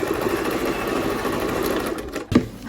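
A sewing machine stitches the back pocket of men's trousers, a loud, steady, continuous motor whir close by, with a brief knock near the end as it slows.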